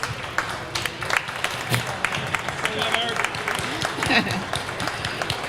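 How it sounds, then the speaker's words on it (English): A crowd claps steadily in sustained applause, with voices mixed in underneath. "can you guys help me to give a hand of applause to our guests?"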